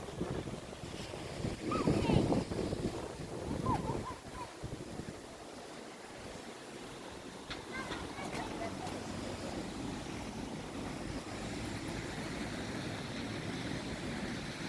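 Wind blowing across a busy beach at Fuengirola, roaring loudly into the microphone in gusts, with surf and distant voices faintly underneath.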